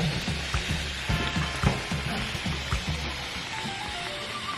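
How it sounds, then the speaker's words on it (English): An Instant Pot vents steam after cooking a pot roast, giving a loud, continuous sizzling hiss with irregular low thumps and bubbling running underneath. "All the steam is being released."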